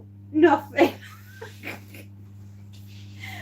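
A single short sneeze, close up, with a quick second burst right after, over a steady low hum, followed by faint rustling.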